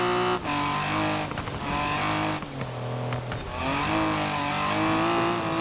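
Morgan Three Wheeler in Forza Horizon 4 revving hard, a loud buzzy engine climbing and dropping through gear changes with brief dips between pulls, close and continuous.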